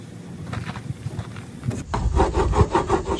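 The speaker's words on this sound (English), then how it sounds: "Scrape off some of those cotton fibers so it'll be sticky again." Cotton fibers are scraped off a sticky pine resin fire roll with a rough, rasping scrape repeated in short rhythmic strokes, close and fairly loud, growing harsher partway through.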